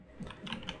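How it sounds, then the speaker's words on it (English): A few soft, quick keystrokes on a computer keyboard, faint and close in a quiet room, lasting under a second. "Okay, so I'm gonna type here"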